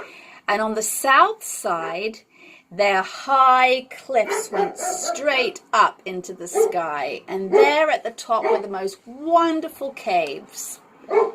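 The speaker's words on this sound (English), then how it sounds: "Now you can hear my dog barking." A pet dog barks now and then in the background of an indoor home recording, with the short yaps mostly buried under a person steadily reading a story aloud.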